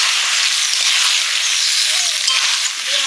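Elephant foot yam frying hard with spices in a pan, a loud, steady broadband sizzle that holds without a break for a few seconds, with no voices over it.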